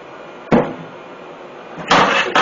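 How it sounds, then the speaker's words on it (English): WD-40 is sprayed onto an electric hedge trimmer blade in short hissing bursts: one brief spray, a pause, then a longer spray and a final short one, close and loud. "then I'll spray it down with WD-40."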